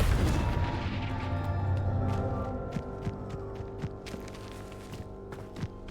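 A Confringo explosion spell from a Harry Potter video game, a deep booming burst at the start that fades into a low hum, followed by a scatter of small sharp impacts.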